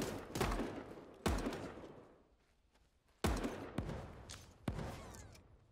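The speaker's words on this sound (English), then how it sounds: "I hear shots." Gunfire in the game Super Animal Royale, four loud, separate shots with booming decays, spaced about a second or two apart, heard alone with no talk.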